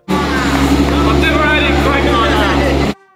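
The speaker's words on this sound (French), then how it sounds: "Voilà, je vais la faire démarrer." Lamborghini Murcielago V12, rebuilt, roars loudly and steadily for about three seconds before cutting off abruptly, with voices mixed into the engine noise.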